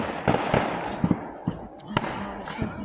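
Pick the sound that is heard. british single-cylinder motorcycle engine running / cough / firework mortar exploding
firework mortar exploding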